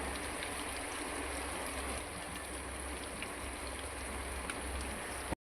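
Ground spices with coriander powder sizzle and fry in hot oil in a pan for a home-cooked chicken curry, a steady close hiss and crackle running unbroken throughout with no talking.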